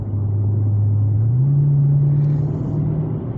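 A Dodge Scat Pack muscle car idles steadily while warming up in the evening, a loud, close, deep rumbling drone whose pitch steps up slightly partway through, with no talking.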